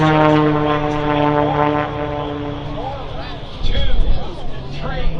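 A radio-controlled Pitts aerobatic plane, the SRC Fury, drones overhead at a military air show, its engine tone sliding up and down through maneuvers beneath loud announcer talk and crowd noise.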